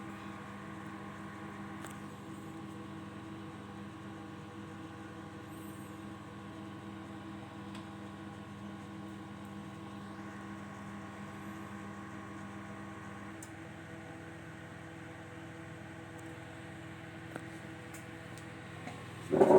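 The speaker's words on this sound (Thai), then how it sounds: "เสียง แมกนิตอนทำงานนะครับ" A Toshiba microwave oven's magnetron runs with a steady low electrical hum and constant mechanical drone, unchanged for the whole stretch, then a brief louder clatter at the very end; the magnetron head is cracked and the mica plate burnt through.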